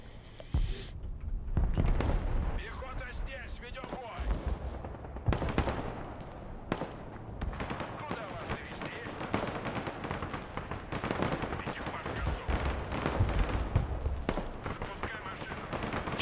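Gunfire and explosions in the combat video game Broken Arrow, a busy stream of sharp cracks and booms at irregular intervals over a rumbling battlefield background, with a voice talking at times.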